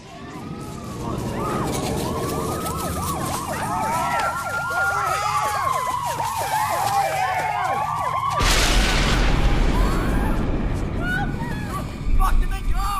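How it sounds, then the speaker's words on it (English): Police sirens wail in a V/H/S film scene, rising and falling tones sweeping close and loud, then a harsh noisy surge as the wail breaks off, with voices speaking underneath. "I also love the particular scene with the police sirens."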